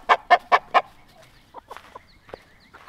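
Australorp hens cluck close by in a quick run of four loud, evenly spaced clucks, followed by softer scattered clucks and murmurs from the flock.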